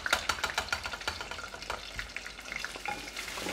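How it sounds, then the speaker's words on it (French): Spring rolls fry in hot oil, giving a close, continuous sizzle with rapid crackling pops and spatters, some louder bursts at an irregular rhythm, and no voices. "C'est sûr qu'il y a des petits splashs de friture."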